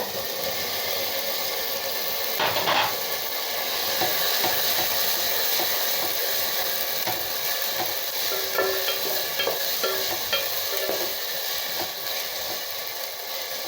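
Onions sautéing in a pan after ginger garlic paste, cooked for mushroom biryani, give a steady close sizzle and hiss, with a few scraping stir sounds near the start and again toward the end.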